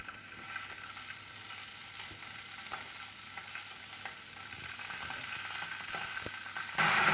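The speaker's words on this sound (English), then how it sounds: "Starting the boiling." A SILVERCREST SWKD 2400 B2 digital water kettle begins heating water, giving a soft, steady sizzling hiss with faint ticks that holds even throughout, then grows a little louder and brighter near the end.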